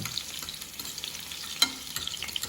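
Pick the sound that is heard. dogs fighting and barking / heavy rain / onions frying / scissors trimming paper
onions frying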